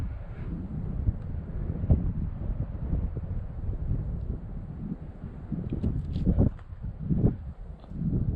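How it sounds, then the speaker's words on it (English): Steady wind buffeting an outdoor microphone at a mountain overlook above the Susquehanna, a low rumbling roar with gusty surges that rises and falls for the whole stretch. "Hopefully the wind's not getting in here."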